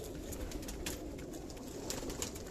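Pigeons coo softly over steady background noise, with a few faint calls scattered through a short stretch, among kept domestic pigeons including a female.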